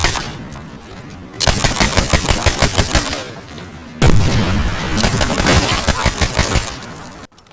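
Slowed-down gunfire from a headshot in the video game Medal of Honor Warfighter: loud, drawn-out bursts in rapid rhythmic pulses, stopping briefly and then surging again before an abrupt cutoff.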